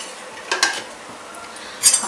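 A spoon clinks against a pot while macaroni is stirred in salted, oiled boiling water, with two or three brief scraping taps against a quiet background and no talk.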